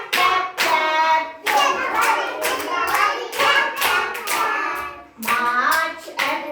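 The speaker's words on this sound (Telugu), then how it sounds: "January February clap clap clap" A group of children in a classroom clap along to a months-of-the-year action song, sharp close claps landing in rhythmic bursts over their continuous sung chanting.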